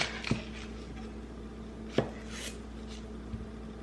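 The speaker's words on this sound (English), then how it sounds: "So I have my onion here. I'm just gonna cut it." A knife cuts through an onion on a board in a few sparse, crisp chops spaced well apart, close and fairly quiet with no talking.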